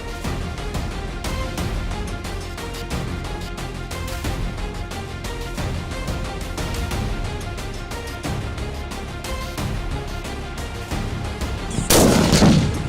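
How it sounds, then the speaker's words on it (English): Rifle gunshots ring out while hunting saltwater crocodiles in the wilds of Northern Australia, sharp reports repeating over a dense, busy backdrop, with a louder burst near the end. "Shoot again, down the shoulder. Give it one more."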